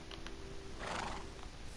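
A Minecraft horse gives a short, faint whinny over a quiet background hum, alone with no talk.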